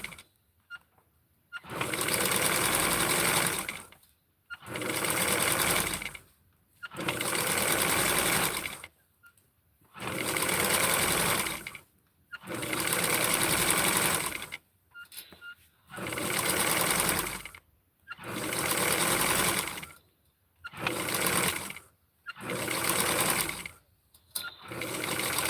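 Sewing machine stitching a small doll dress for a Skipper doll, running in steady bursts of several seconds each with short pauses between, loud and close with no talk over it.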